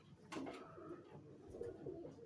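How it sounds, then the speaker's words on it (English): Pigeons coo in soft, low, repeated throaty calls, fairly faint and slightly distant, with no talking. "there are a lot of pigeons as you can see"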